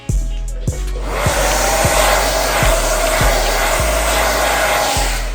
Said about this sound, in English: I'm gonna take my blow dryer.